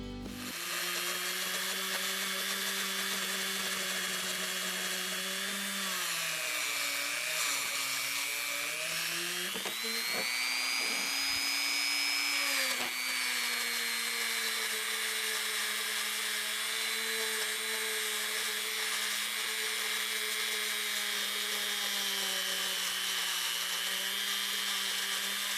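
A rotary plastic abrasive bristle brush spins steadily against a Keystone Wescott No. 78 S steel wrench, a continuous high whine that shifts pitch as pressure changes, close and sustained with no talking.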